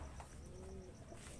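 Flyer pigeons coo softly inside a loft, a faint low warble rising and falling with a quiet background hiss.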